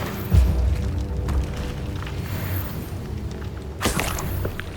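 Bombarda blasting spell from Hogwarts Legacy exploding: a deep boom near the start and a sharp burst later, set within a rumbling game soundscape.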